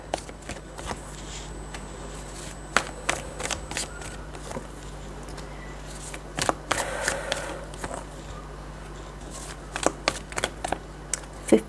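Tarot cards are shuffled by hand at close range, with soft riffling and flicking bursts and small taps scattered irregularly over a faint steady hum.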